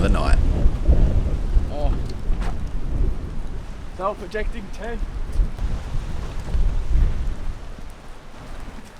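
Wind gusts and rain batter a very wet, windy campsite near Lime Bay, a dense, roaring broadband wash that runs throughout while a person speaks briefly over it.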